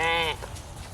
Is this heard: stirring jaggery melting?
no